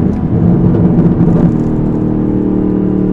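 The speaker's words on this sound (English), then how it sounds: "I get the supercharger whine. I wish it was louder." A Chevrolet Camaro ZL1 engine hums and rumbles up close, with a supercharger whine riding over the low exhaust drone; no one speaks.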